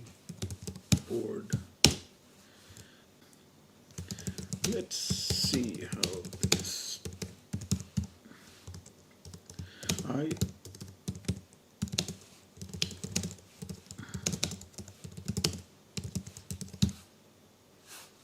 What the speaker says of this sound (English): let's try to type something in 2 different keyboards. First, on the new one, this is the new keyboard.